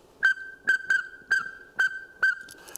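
A duck whistle imitates the short bleeping call of a pintail: six brief, clear, high peeps in an uneven rhythm, loud and close, with no talking.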